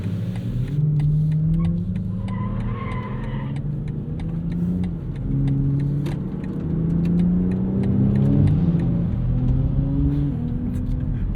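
A 2025 BMW X3 M50 with a turbocharged inline-six accelerates hard in sport mode, its engine droning steadily and rising in pitch through several gear pulls under constant road noise inside the cabin.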